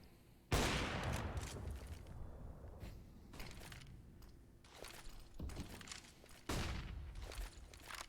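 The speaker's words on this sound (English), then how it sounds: "This nade should do some damage." Competitive first-person shooter match with a grenade blast and gunfire: a sharp explosion opens, followed by scattered bursts of shots and thumps, a second heavy blast near the end, all fairly faint with no talk.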